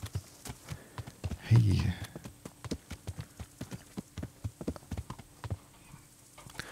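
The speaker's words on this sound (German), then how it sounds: "Oh, das ist aber ein schönes schwarzes Pferd, guck mal." A horse's hooves clip-clop at a steady walking rhythm in the medieval video game Kingdom Come: Deliverance, each hoof strike distinct, with a brief snort or blow near the start and a short spoken greeting over it.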